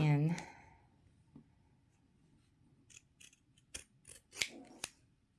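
Scissors snip through fabric for a scrappy Valentine heart ornament, a few close, crisp cuts arriving in a short cluster after a brief stretch of talk.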